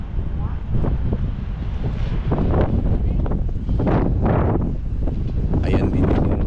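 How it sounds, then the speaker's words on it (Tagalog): Strong wind buffets a fishing boat out on the water where nets are tended, a loud, steady roar with gusty surges, while people talk over it. "Malakas hangin ngayon."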